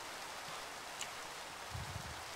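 Steady, faint rain hisses softly and evenly in a Minecraft world, continuous with no other sounds.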